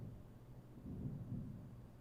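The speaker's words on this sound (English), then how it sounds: "By the way, I hear thunder and lightning." Thunder rumbles low and distant during a storm, a faint rolling swell heard alone.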